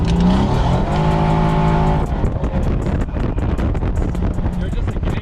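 Mercedes-AMG C63S W205 with a hot, heat-soaked engine, loud and close: a revving tone for two seconds, then a rough, choppy exhaust burble with rapid crackles, blended with wind noise and people talking.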